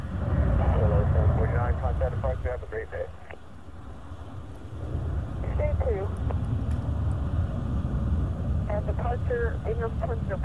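An Avelo airliner takes off from runway 34 at Binghamton, NY, its engines a steady, loud low roar throughout, with radio voices talking over it.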